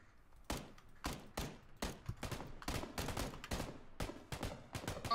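Rapid gunshots from a PUBG firefight, a fast string of sharp cracks in uneven bursts, fairly close and loud, with no talking.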